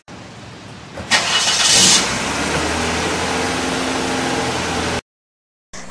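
A car engine turns over and revs as the car pulls away. The sound is close and steady, with a louder burst near the start, then a steady drone that cuts off abruptly.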